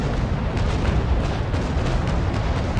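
Cannon broadside from sailing warships in the naval battle game Naval Action, a dense continuous rumble of heavy booms and bursts running throughout, loud and close with no clear separation between shots.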